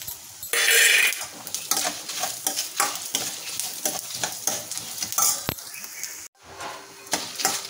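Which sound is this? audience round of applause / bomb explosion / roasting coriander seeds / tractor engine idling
roasting coriander seeds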